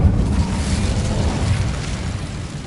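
An Incendio fire spell cast in Hogwarts Legacy gives a loud, roaring burst of flame. The dense rumble sustains without a break for the whole moment, with no talking over it.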